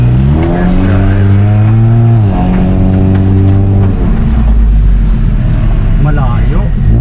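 A remapped Honda Civic FD with the R18 engine, automatic transmission, full exhaust, headers and drop-in filter, loud and close from inside as it pulls through rising revs, shifts, and drones on with a steady low engine note.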